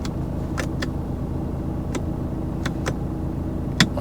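A Mercedes C-Class estate with high mileage idles with a steady low engine drone, then starts moving, with a few sharp ticks and clicks over the running motor.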